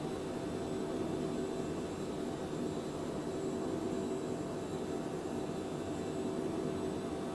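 Steady, quiet whooshing jet engine drone of an Embraer Phenom business jet in a flight simulator, an even cabin-like roar that holds constant throughout with no voices.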